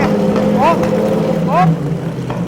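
A loud, low engine rumble from an old Lamborghini Countach idles and revs steadily, with people talking over it and brief whooping exclamations.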